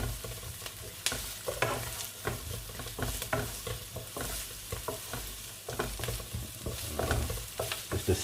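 Onions sauté in toasted sesame oil in a pan, a steady close sizzle broken by irregular scrapes and stirring clatter from a utensil, with no voices.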